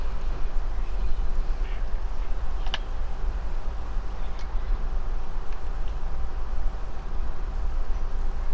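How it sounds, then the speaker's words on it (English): Bird calls fill an aviary in the video game Syberia 3, quacking duck-like notes over a steady low ambient hum, with a sharp brief chirp standing out near the middle. "Birds in the aviary are beautiful."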